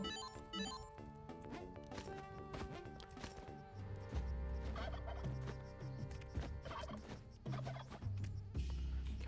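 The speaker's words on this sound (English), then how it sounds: "This person is selling a lot of turkeys." A flock of turkeys gobbling loudly and repeatedly, overlapping calls in bursts over continuous background noise.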